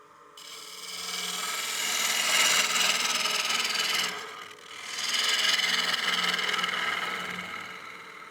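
A bowl gouge cuts into a partially seasoned wooden bowl spinning on a lathe, giving a loud, continuous scraping hiss that swells, briefly drops near the middle, then resumes for a second long pass.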